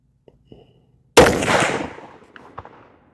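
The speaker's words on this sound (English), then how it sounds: "shot number 2 with the 270 grain Borlock, 100 grain Firestick" A single loud, close muzzleloader blast from a CVA Crossfire loaded with a 270 grain Borlock bullet and 100 grain Firestick charge, booming sharply after a quiet moment, then decaying over about a second with a fading outdoor echo.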